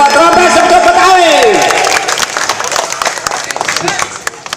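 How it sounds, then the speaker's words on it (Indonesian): Audience applause and crowd noise at a Rompes Betawi pencak silat performance during the Condet festival, clapping swelling under a loud whistle-like tone before breaking into scattered, uneven claps. "Mana tepuk tangannya buat rompes untuk Betawi"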